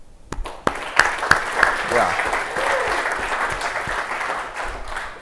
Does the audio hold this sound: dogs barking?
no